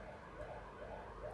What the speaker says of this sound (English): that's a siren